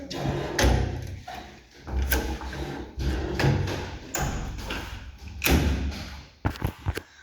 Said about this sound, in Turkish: kapıyı kapatıyorum